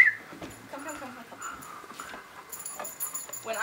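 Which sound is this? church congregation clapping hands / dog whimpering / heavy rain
dog whimpering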